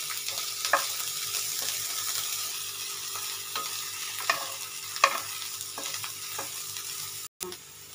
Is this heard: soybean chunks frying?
yes